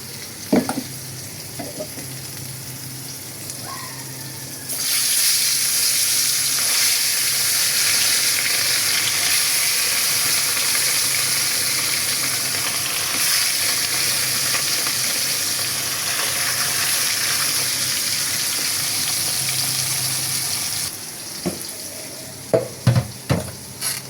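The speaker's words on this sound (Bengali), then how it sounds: "মাছগুলো ভাজতে হবে" Turmeric-and-salt-marinated fish fries in a pan with a steady, loud sizzle lasting most of the stretch, framed by quieter kitchen handling and a few clinks at the end.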